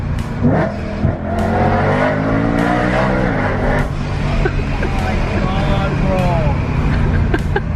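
Supercharged BMW M3 pulling hard through the gears, a loud in-cabin engine note with rising supercharger whine and clear upshifts, while people talk and exclaim over it.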